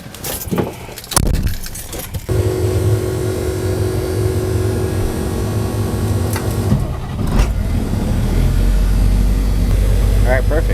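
A plugged-in truck, just unplugged, cranks and fires up after some jangling keys, then settles into a steady, loud idle close by with a deep low rumble and a sustained hum.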